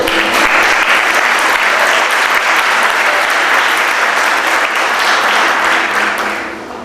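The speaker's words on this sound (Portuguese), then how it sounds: "Você pode aplaudir o Senhor?" A church congregation breaks into loud, sustained applause during a Portuguese-language worship service, dense clapping that fills the room and fades slightly at the end.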